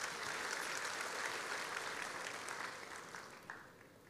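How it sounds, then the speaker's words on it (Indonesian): A church congregation claps during a sermon, a broad wash of applause that stays steady and then thins toward the end, heard at moderate distance. "Tepuk tangan untuk Tuhan kita"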